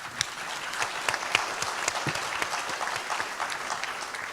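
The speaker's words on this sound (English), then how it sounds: "I would like you to join me in giving a very strong applause for the panel." An audience gives a panel sustained applause, a steady wash of many hands clapping at moderate volume with a few sharper claps standing out, and no talk over it.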